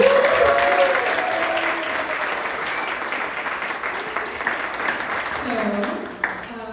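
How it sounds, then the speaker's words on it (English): Steady applause from an awards-ceremony audience honoring speakers after a conversation, filling the room and tapering off near the end, with faint speech beneath. "Let's give them one more round of applause."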